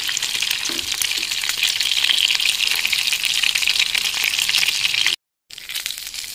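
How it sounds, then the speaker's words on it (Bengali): Stuffed pointed gourds, turned onto their other side, fry in a pan of hot oil with a loud, dense, continuous sizzle and crackle, then a short gap of silence before the frying resumes. "উল্টে দেব উল্টো পিঠটা ভাজার জন্য"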